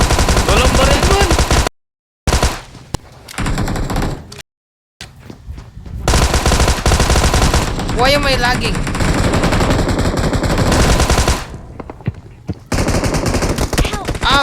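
Loud, rapid machine-gun bursts in a shooting video game come in long runs broken by short silent gaps, while a player talks over the gunfire.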